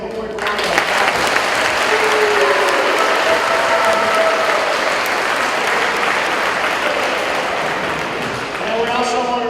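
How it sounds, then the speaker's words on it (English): A round of applause for a coach from a high school audience, sustained thick clapping from a large crowd, loud and continuous, with voices and whoops mixed in. "Let's give him a quick round of applause."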